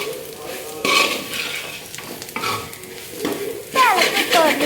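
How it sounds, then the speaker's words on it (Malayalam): Chicken curry being stirred in a pot, with intermittent metallic scrapes of a spoon against the vessel over a soft sizzle, several distinct strokes, the last ones louder. "ഇളക്കിക്കൊണ്ടിരിക്കുന്നത് എൻ്റെ അമ്മ തന്നെയാണ്"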